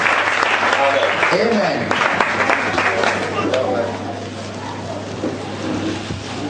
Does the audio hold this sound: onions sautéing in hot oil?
no